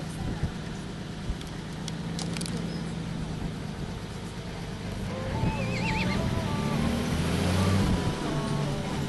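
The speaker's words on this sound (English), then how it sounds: "you see the horse over here with his foot" A horse neighs outdoors at a Bahamas cruise stop where horseback riding is offered, its whinny rising clearly around the middle of the stretch over steady traffic and background bustle, with faint hoof clops and a passing car.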